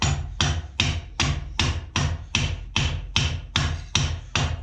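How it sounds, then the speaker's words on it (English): A ball peen hammer strikes metal in a vise to shape a nail head at a blacksmithing forge: a dozen sharp, ringing blows in a steady, even rhythm, close and loud with no talking. "it's just hitting it down with a ball peen hammer. Trying to get that nice nail head shape."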